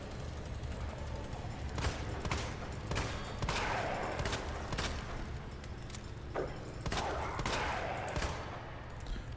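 Handgun shots ring out in Resident Evil 2, a string of separate sharp reports spaced unevenly across the stretch, loud and close with mechanical clicks between them.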